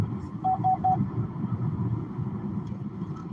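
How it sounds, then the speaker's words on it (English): Road traffic passing on a drive back from the hills, a steady low engine and tyre rumble with three short beeps near the start and a faint voice in the background. "Some more traffic."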